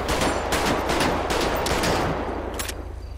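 Gunfire in GTA V during a police mod session, rapid bursts of shots in quick succession at close range, loud and dense over a constant low rumble, with a final isolated crack.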